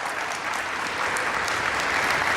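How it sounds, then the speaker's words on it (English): Steady, dense audience applause fills a large hall at the COP26 climate summit, loud and sustained throughout without any speech over it. "Can we have a loud round of applause?"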